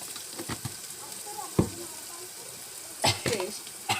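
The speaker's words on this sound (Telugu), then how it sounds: "ఉల్లిగడ్డలు వేగాలి." Onions frying in a pan for moong dal, a soft steady sizzle with a few sharp stirring scrapes and clinks, fairly quiet throughout.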